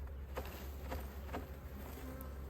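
Honey bees swarm and buzz around an opened hive during spring beekeeping in the Texas Hill Country, a steady close drone with no voices.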